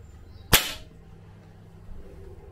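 An SMK PR900W air rifle fires one pellet with a sharp, dry snap, close and loud, which fades quickly into quiet outdoor background.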